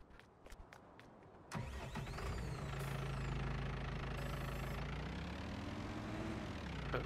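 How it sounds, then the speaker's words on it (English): A wheel loader engine in Farming Simulator 19 starts after a few clicks, then settles into a loud, steady, low rumbling idle that holds for several seconds with a faint whine on top. "And grab the wheel loader."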